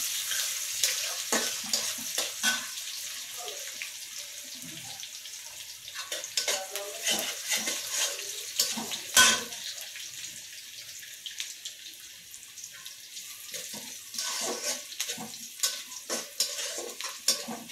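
Onions fry in a pan with panch phoron, giving an irregular crackling sizzle with stirring scrapes and a brief louder clatter partway through, at close range with no talk.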